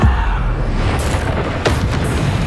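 Bombarda explosion spell from the Hogwarts Legacy video game, loud booming blasts with a rumbling tail and a sharp second burst partway through.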